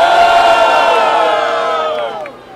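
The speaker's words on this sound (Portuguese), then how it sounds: "Quem acha que Marco levou essa batalha, faz barulho" A loud crowd at a Brazilian freestyle rap battle erupts in cheers, whoops and shouts, a dense roar of many voices that holds steady before fading out near the end.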